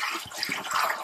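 Filtered water pours steadily into the tank of a small aquaponic system, a continuous close splashing gush.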